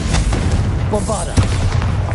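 Bombarda blasting spell going off in Hogwarts Legacy, a booming explosive impact amid continuous combat noise and other spell effects, fairly loud and close.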